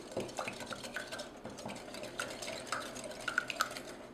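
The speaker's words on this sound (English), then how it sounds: "the first step is to whisk your 3 eggs all together" Three eggs are whisked in a bowl with quick, uneven clinks and taps of the whisk against the sides, close and fairly quiet, with no voices.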